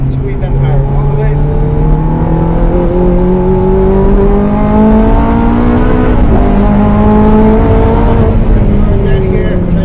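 An Abarth 500 or Ferrari F430 race car engine at full throttle on the Mondello Park circuit, a loud close drone rising steadily in pitch, with a brief dip partway through before climbing again.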